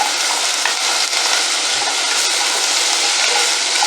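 Onions added to drying meat in a pan while cooking Kenyan mung beans, giving a loud, steady close-up sizzle with frying crackle and light stirring throughout.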